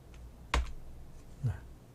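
Two separate clicks of computer keyboard arrow keys, pressed about a second apart during video editing on a computer, sound close and distinct in a quiet room, with the first click sharper than the second.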